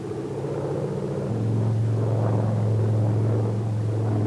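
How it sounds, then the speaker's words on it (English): A Brewster SB2A Buccaneer's piston engine drones steadily through a stall that rolls into a spiral dive, a loud continuous propeller rumble whose pitch settles lower and steadier partway through. "the airplane will roll about 60 degrees to the left and go into a spiral dive"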